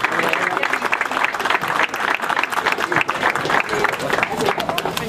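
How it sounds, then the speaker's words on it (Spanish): An audience at a seminar on a national emergency and civil protection system gives loud, continuous applause with many hands clapping close by, and a voice is faintly heard beneath it. "darle un gran aplauso también"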